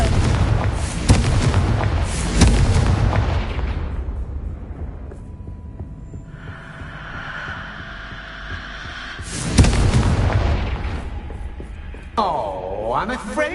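Explosive Confringo spell blast from Hogwarts Legacy, a loud booming burst with rumbling low end, followed by quieter humming ambience and another sharp surge of magical impact.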